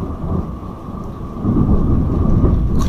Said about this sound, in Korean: 무섭다. 오랜만에 천둥 소리 들으니까.